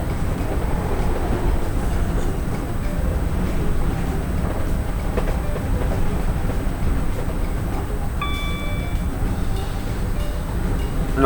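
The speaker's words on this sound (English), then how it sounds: "we're just kind of letting the train roll, as they say" A Class 321 electric train coasts without power in a train simulator game on the Welwyn Garden City to London Kings Cross route, giving a steady, dense rolling rumble with a brief tonal beep near the end.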